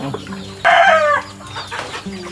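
A hybrid fighting rooster crows once, close and loud, with clucking chickens and farm animals around it before and after.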